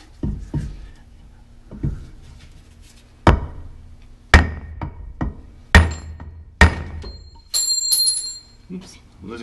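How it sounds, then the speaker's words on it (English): Metal hammer blows strike a ring gear in a GM 12-bolt rear end during Eaton locker installation, a series of sharp ringing clanks spaced irregularly, some with bright lingering metallic tones, in a quiet workshop. "you're not supposed to hit the ring gear here with a hammer"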